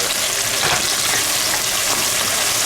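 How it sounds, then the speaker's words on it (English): Potatoes with smoked paprika sizzle loudly in a frying pan while being stirred, a dense steady crackling hiss up close with faint scraping underneath. "we're going to give this a nice stir"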